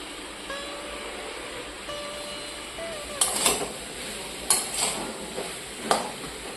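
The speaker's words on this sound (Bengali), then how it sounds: "দেখুন এইগুলো ভাজবো ওই থানগুলি পাতার বড়া" Thankuni leaf fritters frying in a pan, a steady soft sizzle with a few sharp clinks of a utensil against the pan and faint background sounds.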